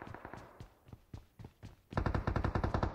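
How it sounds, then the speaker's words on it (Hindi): Rapid machine-gun bursts in the battle royale game BGMI, scattered shots at first, then a dense sustained volley, loud and close with no talk. "लगातार गोलियां बरसा दो वहां पे"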